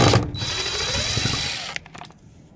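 A power drill whirs steadily for close to two seconds while backing screws out of a vent on a vintage Spartan Manor trailer, then cuts off, leaving light handling clatter.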